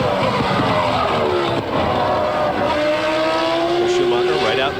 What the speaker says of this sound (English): The car sounded very good there. Listen. There's nothing wrong with it there.